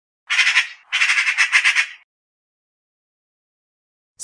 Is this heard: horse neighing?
no